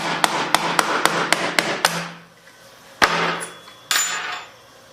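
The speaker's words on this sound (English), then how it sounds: "I'm just going to hit down with the base of my plastic screwdriver here, see if I can get this thing moving." A plastic screwdriver base strikes a pin on a CZ Scorpion Evo 3 pistol, giving seven quick sharp taps in a steady rhythm, then a pause and two heavier knocks, close and loud with no talk.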